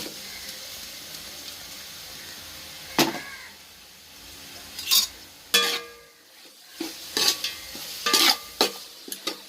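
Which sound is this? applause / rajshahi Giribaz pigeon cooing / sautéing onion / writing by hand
sautéing onion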